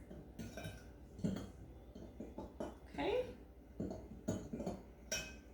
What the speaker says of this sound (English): I'm gonna use a fork here and just gently mix these powdered ingredients together.